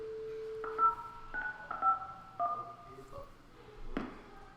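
A rapid series of telephone keypad dialing tones plays in a classroom, each beep short and clear and evenly spaced, with faint room noise and a brief thud near the end.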